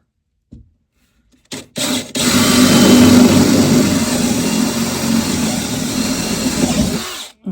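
Power drill boring holes for a boat hatch: a couple of short trigger blips, then a loud, sustained whirring drone for several seconds, close up, ending abruptly.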